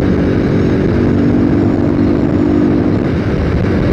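A Lifan X-Plore 200 motorcycle engine strains at high speed, a loud, steady, unbroken drone that holds close and constant throughout with no voices.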